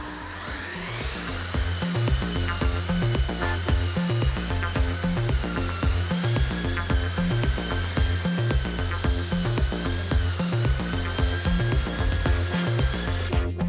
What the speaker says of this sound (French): Si vous souhaitez poncer les angles de mur et de plafond